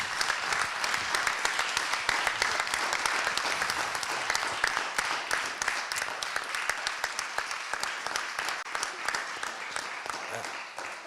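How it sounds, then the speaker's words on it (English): Sustained audience applause from a music conference panel session, a dense steady wash of many hands clapping for the full stretch, loud and close with no speech over it. "So it's really time to applaud"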